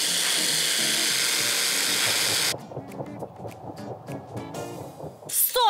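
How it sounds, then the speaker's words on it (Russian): Electric chopper grinding roasted walnuts into crumbs for a beet cake's nut cream, a loud continuous high whir for about two and a half seconds, then stopping and giving way to softer clatter and kitchen sounds. "90 граммов грецкого ореха, уже обжаренного. Мы должны измельчить в крошку."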